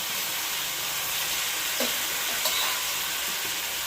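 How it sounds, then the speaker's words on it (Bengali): Fried pointed gourd drops into a potato curry that is cooking down in a pan, giving a soft continuous sizzle with a couple of brief clinks of the pieces going in. No one speaks. "এবারে দেবো ভেজে রাখা পটল"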